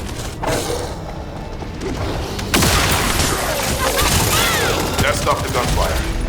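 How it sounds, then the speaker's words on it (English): Sustained gunfire in a combat mission of a shooter video game, with dense overlapping shots and crashes building louder partway through and continuing steadily to the end. "That stopped the gunfire."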